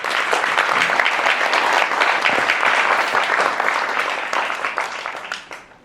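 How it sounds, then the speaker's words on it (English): A large audience applauds steadily at a daytime event, dense clapping holding loud and close for several seconds before starting to thin and fade near the end. "So give them a round of applause."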